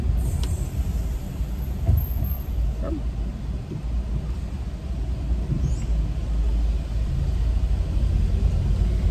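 Car driving, a steady low road and engine rumble that fills the whole stretch evenly, heard from inside the vehicle with no talking.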